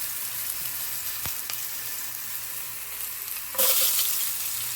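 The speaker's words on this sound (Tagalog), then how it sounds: "Gisa na tayo. Sibuyas, bawang, kamatis." Onion, garlic and tomato sizzle steadily in a hot pan for Filipino ginisang monggo, a close, even frying hiss with a brief clatter partway through and a louder burst of sizzling near the end.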